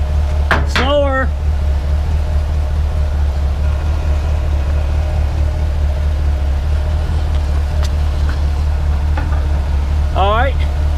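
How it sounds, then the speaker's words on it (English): A Plymouth rat rod's engine runs at a steady low idle, loud and close throughout, while a voice calls out briefly near the start and again near the end. "Stop, cut the engine off."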